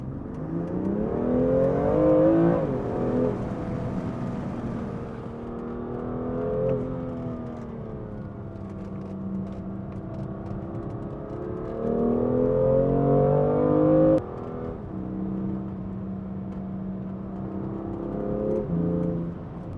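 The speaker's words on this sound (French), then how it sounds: "Vous voyez, ça fait un petit peu de bruit, mais je pense qu'il y a un énorme active sound dans la voiture." A BMW M2 engine revs and climbs through gears, rising and falling in pitch, loud and continuous from inside the car with no talking.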